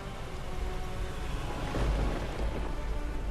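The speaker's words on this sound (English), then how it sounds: "For 2 hours, the immense storm rages through Washington" Steady rain and rumbling thunder from an immense storm raging over Washington, with a low thunder roll swelling near the middle of a dense, continuous downpour.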